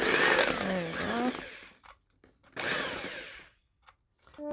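Hand-me-down electric hand mixer whirring in two loud bursts with a sudden stop and near-silence between them, the motor pitch wavering as if straining.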